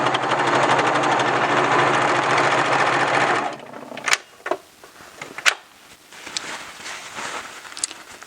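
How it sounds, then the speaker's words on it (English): Serger sewing machine running steadily for about three and a half seconds as it stitches a T-shirt seam over its own starting stitches, then stopping, followed by a few light clicks and handling sounds. "I just continued stitching and sewed right over the beginning stitches"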